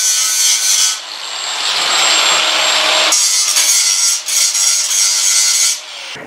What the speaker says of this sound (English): I gotta get this sanded down and get this tacked.